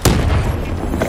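A grenade goes off in the PC shooter Black Ops III during a Demolition match, one loud, deep booming blast with a rumbling tail and a second thump just after, close and heavy.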